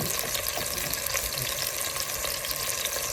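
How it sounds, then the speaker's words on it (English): Beef sears in a hot pan for stew, a steady dense sizzle and crackle running without break at close range, with faint stirring noises underneath. "when you sear it, you want to make sure that it has a little bit of crust"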